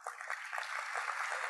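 Audience applause at a corporate social responsibility awards ceremony: a dense, steady wash of clapping from a crowd, moderately loud and brief, with no speech over it.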